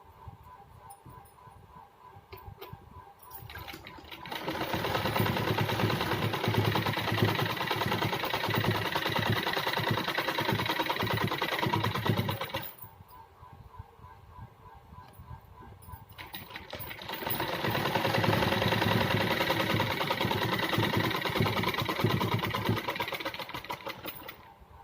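Sewing machine stitching salwar fabric, running in two long steady bursts of fast rhythmic clatter separated by a quieter pause, close and loud.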